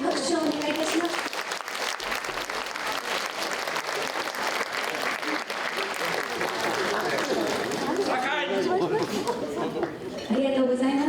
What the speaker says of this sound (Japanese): 皆様改めて拍手をお願いいたします